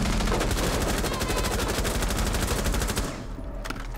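Rapid automatic gunfire from Rainbow Six Siege rattles loudly and continuously for about three seconds, then cuts off and leaves a few scattered shots and quieter game noise.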